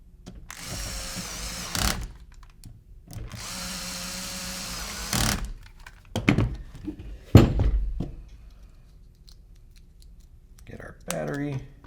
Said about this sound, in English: Run our two ASA screws through.